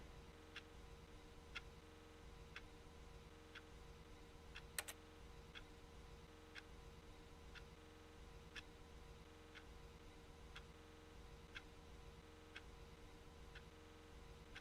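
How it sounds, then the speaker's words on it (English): A clock in The Stanley Parable ticks steadily at roughly one-second intervals, faint and even over a low room hum, with no speech. "You guys hear that clock?"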